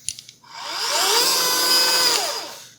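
A KitchenAid cordless hand mixer gives a few light clicks, then its motor whirs up to a steady high whine and winds down, close and alone.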